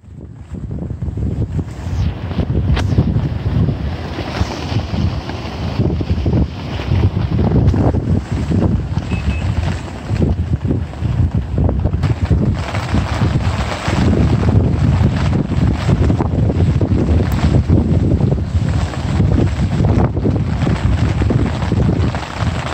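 Strong gusting storm wind roaring across the microphone, with water of the Saône river sloshing and churning nearby, a continuous heavy rumble throughout.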